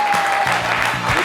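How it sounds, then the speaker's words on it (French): Steady applause from a crowd fills the whole moment, a dense wash of clapping with a voice briefly audible beneath it. "Applaudissez pour Chris."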